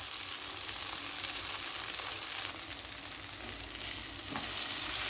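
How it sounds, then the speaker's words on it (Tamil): Oil sizzles steadily in a pan while cooking mango rice, a continuous crackling hiss heard up close with occasional stirring, and no voices. "நல்லா எண்ணெய் ஊற்றி வணக்கணும்."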